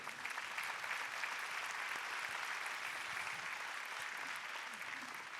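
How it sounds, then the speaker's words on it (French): An audience applauds at a school-inclusion event, a steady, even wash of clapping that holds for several seconds without a break. "On peut les applaudir pour les encourager."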